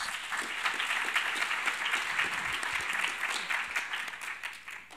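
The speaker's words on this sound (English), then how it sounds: "Let's give everyone a round of applause." Steady audience applause fills a United Nations Women's Entrepreneurship Day event hall after a host's call, a dense even roar of many hands clapping at moderate loudness throughout.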